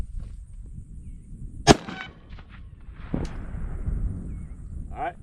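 Rifle shot at a steel target 50 yards away during livestock-protection shooting with a thermal scope: one sharp loud crack with a ringing metallic tail, then a fainter knock, with low outdoor rumble throughout.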